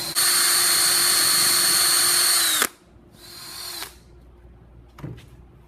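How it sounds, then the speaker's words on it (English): A power drill bores through a custom key chain blank: a loud, steady high-pitched whine for about two and a half seconds that cuts off, followed by a quieter shorter run and a brief final burst. "And we're gonna drill through to the other side."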